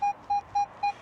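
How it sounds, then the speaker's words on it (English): Four short, evenly spaced electronic beeps from a Minelab Manticore metal detector sweeping over a coin-like target in a wet, muddy field, crisp and steady against quiet background noise. "Good enough signal to be a coin."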